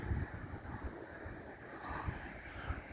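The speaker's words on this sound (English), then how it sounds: "the wind's blowing" Wind blows on a cool day at the Oregon coast, a steady broadband rush with low rumbling buffets against the microphone, moderately loud throughout and with no talking.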